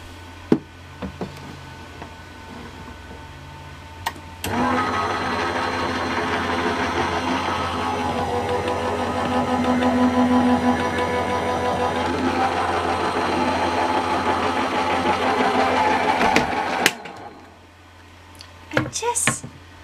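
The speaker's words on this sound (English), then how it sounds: "I'm just going to run it through my new Go Power and Emboss machine" An electric die-cutting and embossing machine runs steadily for about twelve seconds, a moderate mechanical hum and rolling drone with faint knocks, starting abruptly and stopping near the end, with no talk over it.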